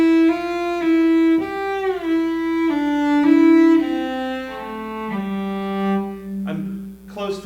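A bowed string instrument plays slowly and steadily in rhythm, each sustained note held for about a second before the next, clear and close with no talking.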